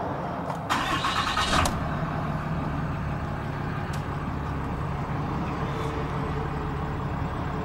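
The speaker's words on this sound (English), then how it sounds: "So now we'll go ahead and start the engine." A 2014 Ram 3500 Dually Tradesman with the Cummins diesel cranks briefly and fires, then settles into a steady low diesel idle that carries on beneath faint ticking, heard from close by.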